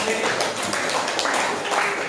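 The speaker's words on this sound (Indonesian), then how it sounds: "Tepuk tangan untuk kelompok auditorial." Classroom group applauds the auditory learners group, giving a brief burst of dense, continuous clapping from many hands close by.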